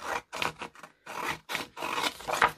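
A paper Christmas tag is trimmed down in short bursts of rasping, scraping cuts separated by brief pauses, close and fairly quiet.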